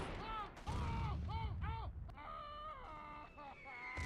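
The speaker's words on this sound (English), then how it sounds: "There's our artillery" Artillery barrage in a World War One video game on the Italian front, heavy booming blasts rumbling low beneath strained wailing voices and harmonic cries, loud and continuous through the scene.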